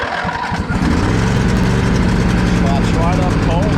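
A Snapper lawn mower engine, choke and throttle fully up, fires on a cold start after a brief cranking attempt and settles into a steady, loud, close idle with an even, running drone.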